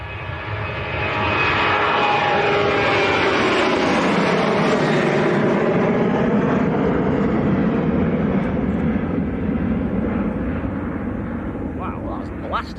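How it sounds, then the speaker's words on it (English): A Ryanair jet takes off from Leeds Bradford Airport bound for Girona, its engine roar building quickly into a loud, sustained rumbling blast that stays close and powerful, then slowly fades as it climbs away. "So this is a Ryanair to Girona."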